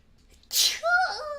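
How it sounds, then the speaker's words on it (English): A single sharp sneeze up close, a quick inhale then a loud burst, trailing into a brief voiced exhale. "Wait, I might have to sneeze."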